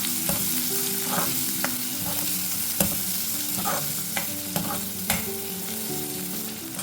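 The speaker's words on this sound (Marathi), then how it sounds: "आणि कांदा हे सर्व आपण आता तेलावर परतून घेऊया" Onion and curry leaves sauté in hot oil for methi dal, a steady close sizzle with repeated sharp scrapes and clinks of a spoon stirring against the pan, no voices.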